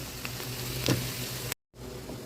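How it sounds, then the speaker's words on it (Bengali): Onion, garlic and dried chilli frying in hot oil for a lentil dish, a steady close sizzle with one brief stirring scrape, cut by a short gap of silence before the hiss resumes. "ভালো করে এটা বাদামি করে ভেজে নেব।"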